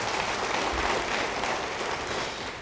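Church congregation at a Christmas service bursts into loud, dense applause, a continuous wash of many hands clapping that fills the space and tapers slightly at the end.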